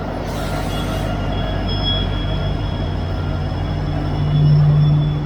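A noisy generator car on the Brahmaputra Mail, stopped at a station, gives a steady, loud, close rumble with a constant hum and a faint high whine, the drone holding unbroken and swelling slightly toward the end.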